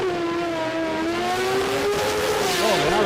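Mazda RX-7 and Mazda 1300 wagon drag racing at an Australian sports compact drag meet, heard as a loud, sustained engine scream whose pitch wavers and climbs near the end.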